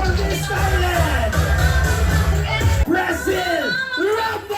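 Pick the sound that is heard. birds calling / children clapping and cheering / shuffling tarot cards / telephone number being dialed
children clapping and cheering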